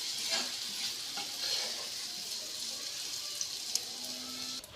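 Fried grated mango is stirred into rice in a pan, giving a steady bright sizzle with soft scraping and stirring throughout, close and continuous, with no talking.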